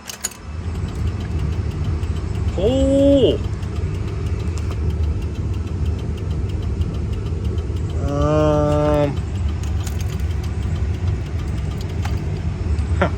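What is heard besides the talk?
car engine starting and idling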